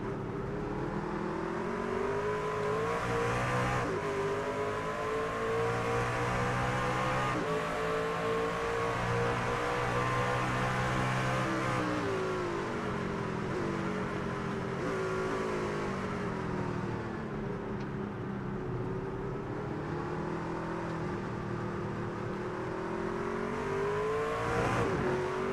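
Racing truck engines in the iRacing sim at Oschersleben, a dense, continuous roar of several motors revving and shifting together, loud and steady throughout with rising and falling pitch.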